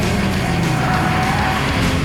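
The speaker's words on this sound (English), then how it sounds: "run 5 laps on the track in the stock FRS" Stock Toyota FRS driven hard around a race track, loud continuous engine drone close up with hints of tire squeal, no talking.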